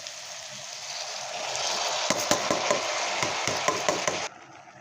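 Rice being stirred in a pot with turmeric and salt, a steady sizzling hiss with a run of soft rhythmic scrapes and taps from the spoon, close and continuous until it cuts off near the end.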